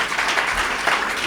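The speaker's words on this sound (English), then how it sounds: "If we could please have a final round of applause for our candidates." Dense applause from a crowd at a League of Women Voters candidate forum in Wilkes-Barre, steady clapping throughout with no pauses.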